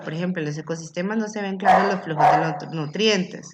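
A neighbour's dog barks a couple of times with sharp yelps, partly masked by a person talking continuously in Spanish.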